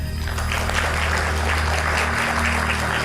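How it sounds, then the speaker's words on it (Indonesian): A crowd applauds a professor being introduced at a public event, dense continuous clapping filling the room at a loud, even level over a low steady hum, with no talking heard. "Berikan tepuk tangan untuk Profesor Siti Musdah Mulia."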